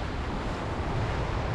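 Waves wash onto a beach at Punta Cana, Dominican Republic, in a continuous broad roar, mixed with wind buffeting the microphone, fairly loud and close.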